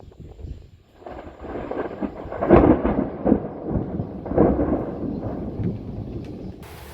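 Deep rolling thunder booms repeatedly during a storm around a sailboat anchored on a muddy brown river, with several loud swells and a steady background of light rain and wind.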